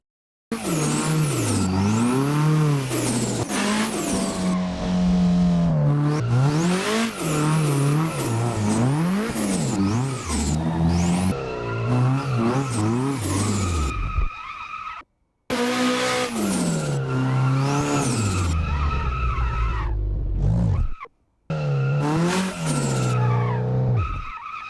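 A race car laps the Okuibuki circuit in a racing video game, its engine revving loudly through repeated rising and falling gear shifts, with tire skids and two brief silent breaks along the way.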